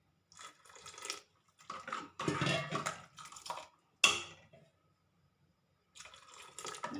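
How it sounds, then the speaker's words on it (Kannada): Hot water splashes into a pot of sambar in short, uneven pours, with gaps of quiet between bursts of liquid and a sharp clink of the vessel partway through. "ನಿಮ್ಗೆ ಎಷ್ಟು ತೆಳುವು ಬೇಕೋ ಅಷ್ಟು ಇದಕ್ಕೆ ನೀರು ಹಾಕ್ಕೊಳ್ಳಿ"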